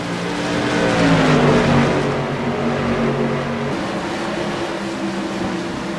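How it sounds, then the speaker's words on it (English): Light modified race cars battle at New Hampshire Speedway, a loud droning engine roar that swells and then holds steady as they pass, with no audible commentary. "Battle in the light modifieds between Tanner Cook and Kyle Barnes"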